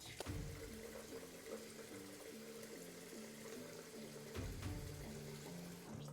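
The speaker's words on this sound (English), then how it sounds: "let's rinse this off" Water runs steadily from a tap as a razor is rinsed under it, a continuous faint splashing with a few louder knocks.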